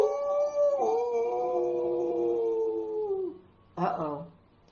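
A drawn-out, wavering howl rises and holds for about three seconds, then a shorter second howl follows after a pause. It is voiced in a storytime, likely a person imitating an animal howling from far away.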